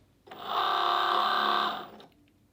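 A Cricut Joy cutting machine pulls its mat in with a smooth motorized whir that rises, holds steady for about a second, then winds down, close and alone.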